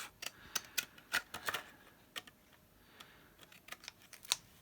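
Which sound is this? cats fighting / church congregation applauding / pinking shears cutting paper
pinking shears cutting paper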